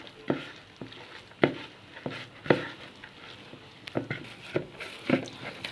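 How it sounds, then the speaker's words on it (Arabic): Dough made with milk and cream is kneaded by hand in a bowl, giving soft, irregular slaps and squelches that repeat roughly every half second to second, close and fairly quiet. "هنفضل نعجن فيها كده 10 دقايق"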